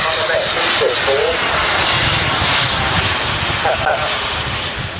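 A model aircraft engine flying at an outdoor air show, a steady loud droning whine that holds for the whole stretch, with a commentator speaking over it on a public address system.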